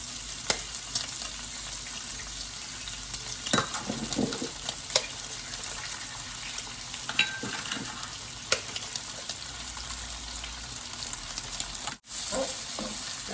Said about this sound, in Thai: ผัดเบคอนกับต้นหัวหอมใหญ่ใส่ด้วยกันเลยนะคะ